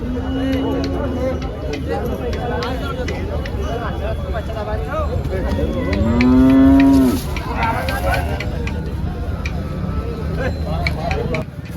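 A cow lets out a long, loud moo up close amid a busy outdoor cattle market backdrop of people talking and other livestock sounds.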